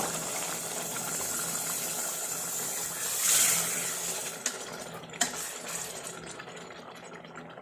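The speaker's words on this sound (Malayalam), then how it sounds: "ഇതിലേക്ക് ഇവിടെ തിളപ്പിക്കാൻ വെച്ചിരുന്ന കൂട്ട് വെള്ളം ചേർക്കുക" Boiled water poured into a pot of jackfruit biryani, a steady rushing hiss that swells briefly midway, then trails off into a few light clinks and splashes.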